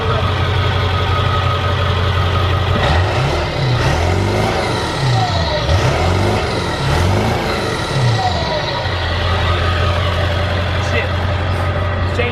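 A straight-piped 7.3 work truck idles with a low rumbling exhaust, then revs up and down in several sweeping bursts before settling back to a steady idle, close and loud.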